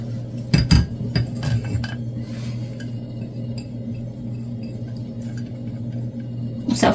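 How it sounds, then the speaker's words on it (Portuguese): A spoon stirs salt into a no-knead bread mixture in a bowl, opening with a cluster of bright metal-on-bowl clinks and scrapes. Quieter stirring follows over a steady low hum. "Mexer aqui um pouquinho pra ver se ele dissolve"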